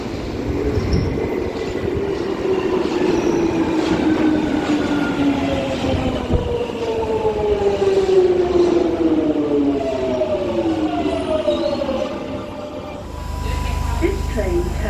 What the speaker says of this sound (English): These trains do have a unique motor sound to them.